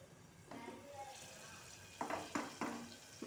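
Onions sautéing in a pan at the start of a mutton curry give a low, gentle sizzle broken by several scraping stirs of a spoon, all fairly faint and close.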